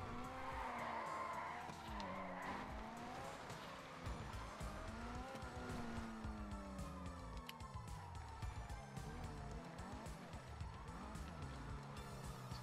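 A car in the video game GTA V drives and skids, with long looping tire squeals sweeping up and down over engine drone and a siren-like wail throughout, loud and continuous with no speech.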